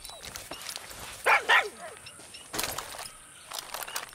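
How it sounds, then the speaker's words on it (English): A dog in Far Cry 6 gives two sharp, close barks near the middle, then lighter yips and whimpers follow among faint game ambience. "Good dog. Good dog."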